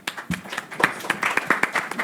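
Audience at a Spanish-language academic session clapping in scattered, uneven bursts, a small group of hands rather than a full ovation, fairly close and moderately loud.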